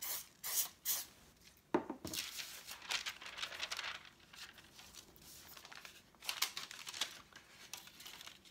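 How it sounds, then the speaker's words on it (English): Cooking spray misted lightly over a springform pan wrapped in foil for a cheesecake water bath, short soft hisses mixed with crinkling foil and paper handling, close and quiet. "Just going to lightly spray it just so the paper will stick."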